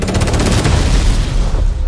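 An explosion from a movie trailer, a single deep, powerful boom with crackling debris that fills the sound and slowly dies away.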